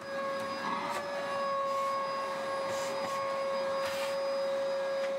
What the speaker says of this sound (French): C'est un aspirateur dorsal, ça aide à dépoussiérer tous les petits coins qu'on n'arrive pas à dépoussiérer.